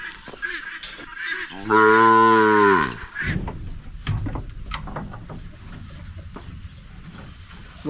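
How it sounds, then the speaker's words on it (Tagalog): A cow on a farm lets out one loud, drawn-out moo close by. Other farm noises and faint background sounds follow. "Dumidi agad yung ating baka na si Bitas Puti oh."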